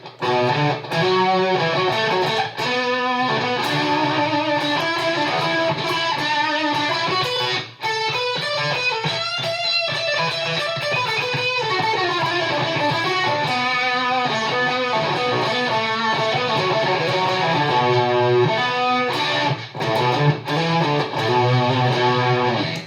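Electric guitar with a fuzzy, distorted tone playing chords and riffs through a Fender Mustang GTX100 amp with a dry preset and no reverb, loud and continuous with no talking.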